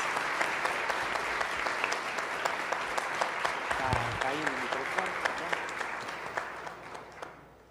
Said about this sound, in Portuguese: Vamos acolher o irmão com uma salva de palmas.